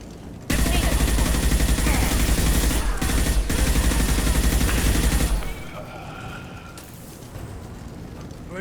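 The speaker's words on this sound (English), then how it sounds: "The Blue Suns and Vultures shooting anything that moves." Sustained gunfire roars through a Mass Effect 2 battle with Blue Suns and Vultures mercenaries, a loud continuous barrage for about five seconds before dropping to quieter rumbling background.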